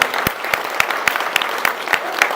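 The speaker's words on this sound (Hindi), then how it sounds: "अपने लिए तालियां बजाएं पहले, सबसे पहले प्लीज दिल से।" A crowd claps steadily and energetically, with rhythmic, evenly spaced loud claps standing out above the dense applause.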